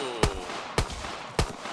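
Three evenly spaced Waffen P30 pistol shots in Black Ops 3 Zombies, crisp close cracks about half a second apart over quiet game ambience.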